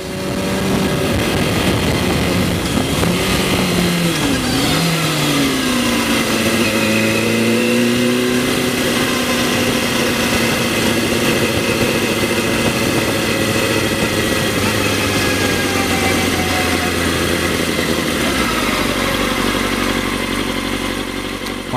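A Kawasaki Ninja 636 motorcycle engine runs loud and close throughout, holding a steady mid-range rev with a slight rise and fall in pitch, no voices over it.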